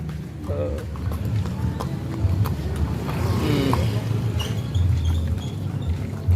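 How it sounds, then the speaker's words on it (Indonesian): Horse hooves clip-clop during a horse ride at the town square of Conggeang during Ramadan, with light steady hoofbeats mixed into passing traffic while people talk nearby. "Ngabuburit numpak kuda di alun-alun Congeyang."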